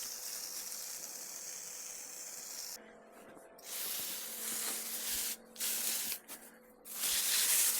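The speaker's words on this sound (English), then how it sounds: "You can just spray all over the top of that." A 50 gallon turf sprayer sprays over and behind bushes: a steady broadband hiss that drops out briefly several times and then resumes, fairly close, with a low motor hum underneath.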